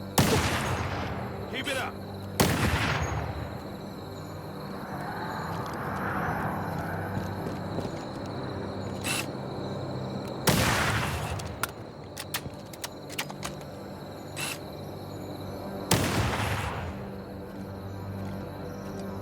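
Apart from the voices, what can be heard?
gunfire in the video game Halo Campaign Evolved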